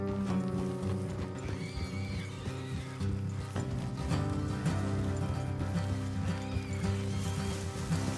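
Horses in Red Dead Redemption 2 whinny and clop their hooves along a road, steady and close under a continuous layer of game music and ambience.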